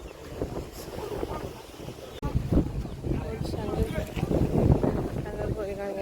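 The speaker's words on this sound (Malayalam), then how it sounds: "അടുത്ത ബോട്ട് വന്ന് കിടക്കുകയാണ്." Boat engine and water noise at the Kanyakumari jetty as a boat comes in, a steady broadband rumble with wind buffeting the microphone and a sharp knock midway, while people talk over it throughout.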